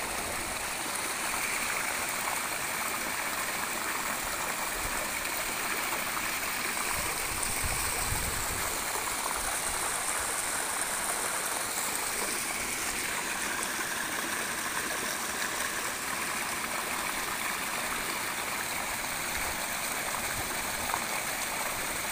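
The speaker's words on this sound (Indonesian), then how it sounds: "Tuh air terjunnya ya." A waterfall roars steadily and evenly throughout, a dense rushing wash of falling water with no pauses or voices.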